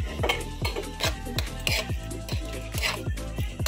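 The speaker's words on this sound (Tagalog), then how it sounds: "Haluin lang natin ng maabuti para ma-absorb niya yung lasa ng butter at ng garlic." Garlic butter shrimp gets stirred in a pan with a utensil, giving quick rhythmic scraping and clinking strokes over a soft sizzle, close by and without talk.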